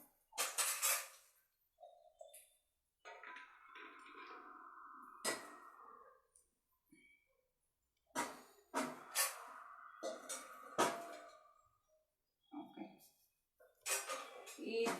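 Fried dry fruits are scooped out of a pan during a live home cooking session, with sharp metallic clinks and scrapes of a utensil against the pan in bursts, close up, alongside intermittent talking.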